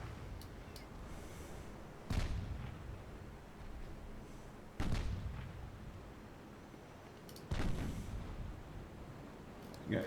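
2-inch guns in a British naval campaign game, firing at transports: three distant, booming shots a few seconds apart, each a sharp thud trailing into a rumbling decay over steady background noise.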